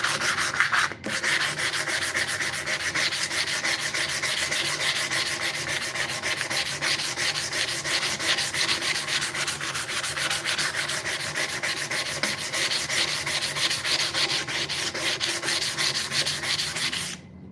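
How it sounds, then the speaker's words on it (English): Belt sander sandpaper scrubbing steadily across a surface, a continuous, fairly loud abrasive rasp with a fine rhythmic texture that holds evenly for the whole stretch, alone without talk. "this is belt sander sandpaper"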